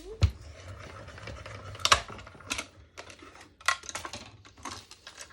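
A manual die-cutting machine runs a sheet of designer series paper through, giving irregular crisp clicks and crunching snaps over a low background rumble.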